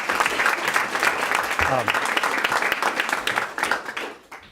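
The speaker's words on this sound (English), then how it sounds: "Let's give them all a round of applause." Audience applause at a city leaders' event releasing an immigrant welcome plan, loud, dense clapping filling the room and fading out at the end, with a voice briefly heard over it.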